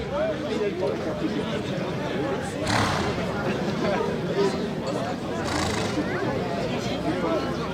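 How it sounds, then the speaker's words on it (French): A chestnut horse trots at a March horse fair, hooves clopping beneath a steady crowd murmur while a loud neigh rises partway through; people talk over the scene. "Voilà le deuxième cheval, donc un cheval alezan."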